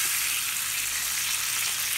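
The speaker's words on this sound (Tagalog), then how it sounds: "Nagprito ako ng toyo." Dried fish frying in a pan with soy sauce, a dense, even, loud sizzle that holds steadily throughout with no talking.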